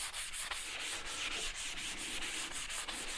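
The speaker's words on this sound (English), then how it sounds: "Sand it down with a sanding sponge to knock the ash off." Sanding sponge rubbed along a charred cedar axe handle to knock off the ash, a steady close-up scratchy rubbing with rhythmic back-and-forth strokes and no talking.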